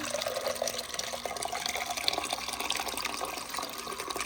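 Rinse water poured from a Ninja Slushee machine into a cup, a steady splashing, trickling stream close by that runs continuously for a few seconds without pause.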